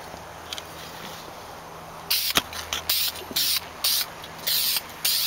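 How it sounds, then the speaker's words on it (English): A spray gun sprays primer onto a part of a 1987 Yamaha VMAX in several short, sharp hissing bursts, close and loud, after a quiet stretch with faint clicks. "I'm just hit this with some primer over."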